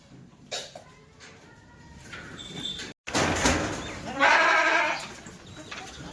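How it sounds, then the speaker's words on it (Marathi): Hyderabadi goats bleat loudly nearby on a goat farm, with one long drawn-out bleat standing out above shuffling and background farmyard noise. "मित्रांनो हे आबा यांचं शेळी पालन आहे"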